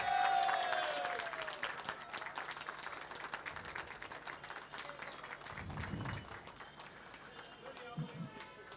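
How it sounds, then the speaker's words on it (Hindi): An audience applauds to welcome film director Rohit Shetty at a felicitation event: steady, fairly distant clapping from a crowd runs throughout, with a voice over a loudspeaker near the start. "हम जोरदार तालियों के साथ रोहित साहब का इस्तकबाल करेंगे"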